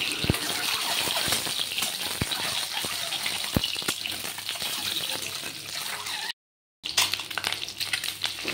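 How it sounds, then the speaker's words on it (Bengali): Boiled eggs fry in hot oil for an egg curry, giving a steady bubbling sizzle with scattered sharp pops and spatters throughout, briefly cut to silence near the end before the frying noise resumes. "তেল গরম হওয়ার পর সিদ্ধ ডিমগুলা ভাজতে দিয়ে দিলাম"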